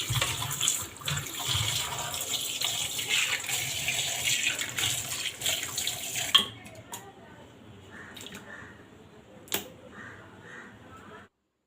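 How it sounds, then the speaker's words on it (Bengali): Cut lote fish rinsed under a running tap, a steady gush of water for several seconds, then the flow stops, leaving a few clinks and light handling sounds nearby. "প্রথমে মাছগুলোকে কেটে ভালো করে ধুয়ে নিতে হবে।"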